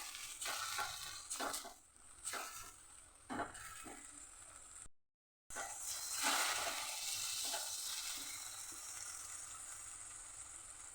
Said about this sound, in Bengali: ভেজে রাখা আলুটা দিয়ে দিলাম।